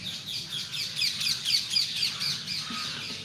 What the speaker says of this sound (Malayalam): അടിപൊളി കിളിയാണ്.